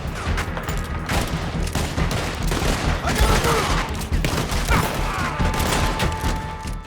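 Rapid gunfire from a six-round sidearm in Red Dead Redemption 2, shots fired while riding on horseback, a dense loud volley of overlapping bangs over a low rumble lasting throughout.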